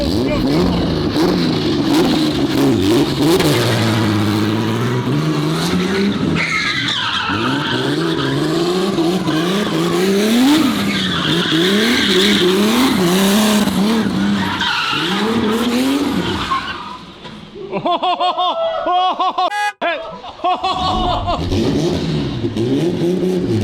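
A 1,000 hp car skids through laps with long wailing tire squeal and rising and falling engine revs, loud and close, with people talking over it and a brief quieter pause near the end.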